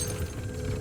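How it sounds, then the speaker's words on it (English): Armor plate snapped into place in Warzone, a brief, dense mechanical ratcheting clatter heard up close over a steady low game rumble. "Reinforcing armor."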